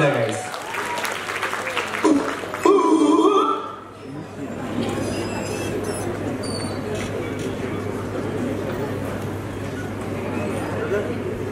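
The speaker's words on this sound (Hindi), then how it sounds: "जोरदार तालियां हो जाएगा।" Audience applause at the Rajasthan Film Festival at Amity University, Jaipur, welcoming performers on stage: after a brief announcer's voice, a steady, dense wash of clapping fills the rest of the stretch at moderate loudness.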